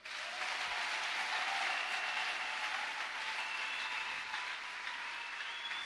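A church congregation applauds during a service, a dense, sustained wash of clapping from many hands that stays loud and even for several seconds.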